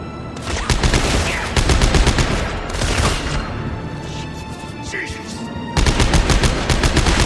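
Rapid bursts of weapon fire in the sci-fi horror shooter Dead Space 3, loud and repeated, with a short lull in the middle before the shooting resumes heavily.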